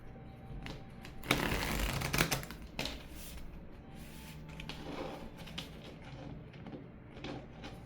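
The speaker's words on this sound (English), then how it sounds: "Let me shuffle your cards real quick." Tarot cards shuffled by hand indoors, a dense riffling burst up close followed by a few shorter softer shuffles and light handling sounds, with no talk.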